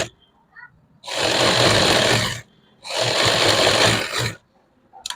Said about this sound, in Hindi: फिर हम सूट के पीछे एक्स्ट्रा सिलाई लगाएंगे।